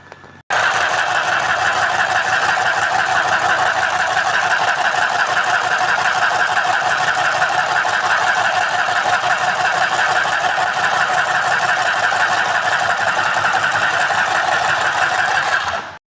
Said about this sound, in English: And begin to sew your fabric.